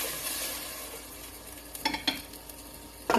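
A spoon stirs a chicken marinade of ketchup, black pepper and honey in a bowl, a quiet wet swishing that builds to a few louder scraping strokes near the end, with no voices.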